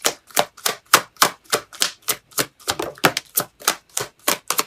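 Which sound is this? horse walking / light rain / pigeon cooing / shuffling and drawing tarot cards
shuffling and drawing tarot cards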